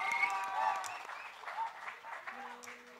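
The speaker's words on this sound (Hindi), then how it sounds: "तीनों के लिए जोरदार तालियां हो जाए।" Audience at a Day of the Seafarers event performed by disabled artists claps for three stage crew members, moderately loud applause with a voice speaking over it and tonal sounds mixed in.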